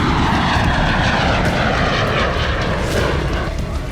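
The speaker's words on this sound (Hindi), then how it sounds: "ठीक ऐसे ही प्लेन ने मॉस्को से सेंट पीटर्सबर्ग के लिए उड़ान भरी थी।" A passenger airplane takes off on a flight from Moscow toward St. Petersburg, its engines giving a loud, steady roar that swells slightly through the clip with no speech over it.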